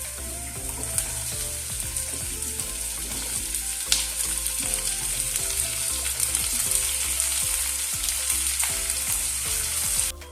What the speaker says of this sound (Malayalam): ഇഞ്ചിയും വെളുത്തുള്ളിയും നമ്മൾ ചെറുതായിട്ട് അരിഞ്ഞതും കൂടി ഒന്ന് ഇട്ട് കൊടുത്ത് നല്ലപോലെ ഒന്ന് വഴറ്റിയതിന് ശേഷം നമ്മൾ സവോള ചേർത്ത് കൊടുക്കുന്നുണ്ട്